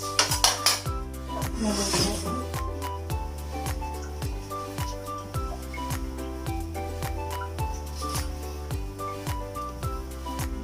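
Tilapia stew being stirred in a pot, with a utensil clinking and scraping against the metal in a steady repeated rhythm, close and fairly loud throughout.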